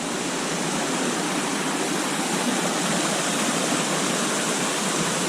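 Steady, dense roar of a waterfall, loud and unbroken throughout, with no other sounds standing out.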